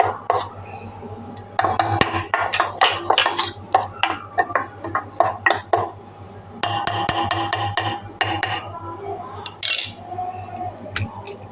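Eggplant is mashed and mixed into a batter in a bowl, giving close, repeated wet squelching and clinking strokes in bursts, with a low hum behind.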